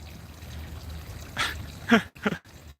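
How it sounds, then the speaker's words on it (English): A water fountain sprays water from the beak of a goose statue on the cobblestone streets of Norfolk, Virginia, a steady outdoor splashing and trickle under faint background noise, with a couple of louder splashy bursts near the end. "the water is shooting out of the goose's beak"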